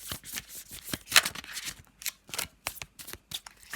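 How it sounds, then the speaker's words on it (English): Dark Mansion Tarot cards being shuffled by hand, a close run of crisp riffling bursts and soft slaps in an uneven rhythm, with no talk. "So let's just have a little shuffle"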